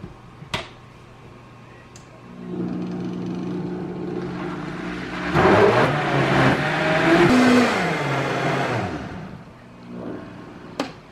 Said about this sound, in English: And then we're going to blend this up.